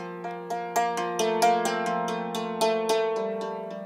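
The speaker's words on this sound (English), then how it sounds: "It's the sound of a cymbali." A Ukrainian cymbali, a hammered dulcimer, played in a steady run of bright struck notes with ringing metallic overtones that overlap and sustain, close and alone.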